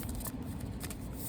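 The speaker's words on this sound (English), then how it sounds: "So I'm doing a good shuffle" A tarot card deck being shuffled in a steady, continuous riffle of close papery rustling that runs unbroken, with no speech over it.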